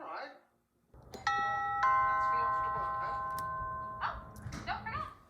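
A Logitech CircleView video doorbell chimes with clear, sustained electronic ding-dong tones ringing out and slowly decaying, while faint background voices and household sounds come and go around it.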